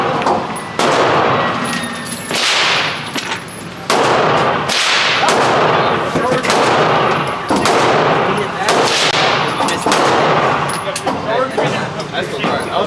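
Loud, close gunshots crack at a gun range, about a dozen sharp reports fired at an irregular pace, each ringing out with a brief echo while voices talk in between.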